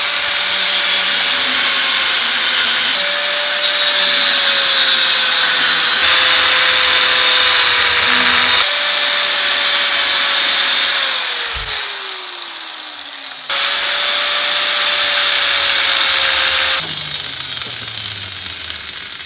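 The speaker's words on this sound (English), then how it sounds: "We're now going to use the angle grinder to try and cut the rough profile as best we can" An angle grinder cuts the rough profile of a knife blank, a loud sustained grinding whine that shifts pitch and pauses several times over the cut.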